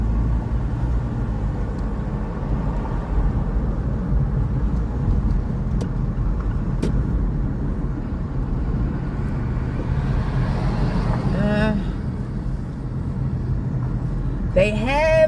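Steady road traffic from many cars in Floresta, a continuous low rumble of engines and tires passing close by throughout, with brief talk from someone nearby.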